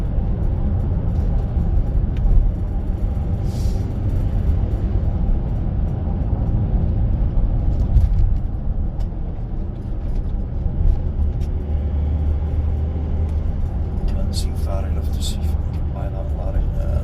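Heavy road traffic rumbles steadily as a lorry and a truck pass each other in opposite directions, a continuous loud low drone that swells and fades, with a voice talking over it.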